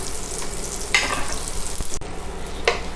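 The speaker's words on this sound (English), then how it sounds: "So we can kind of get our butter melted a little bit quick." Butter melts and sizzles in a pan over medium heat. A soft, continuous frying hiss runs throughout, with a couple of brief scraping stirs.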